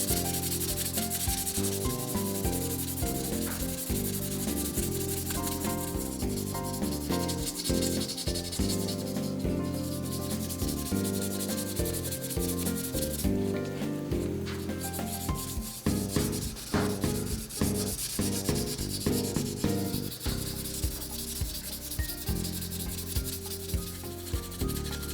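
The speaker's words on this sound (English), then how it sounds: "a lot of hand sanding." A knife handle is sanded by hand in steady rhythmic strokes, a continuous close scratchy rubbing that runs the whole time with no talking.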